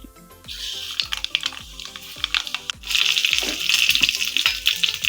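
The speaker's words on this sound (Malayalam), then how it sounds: "നമ്മൾ വെളുത്തുള്ളി കരിയാപ്പിലയും കൂടി ഇട്ട് കൊടുത്തു" Garlic and curry leaves sizzle and crackle in hot oil while preparing a Kerala-style tomato curry, a steady close frying hiss that surges louder midway, with faint clinks of stirring and no talking.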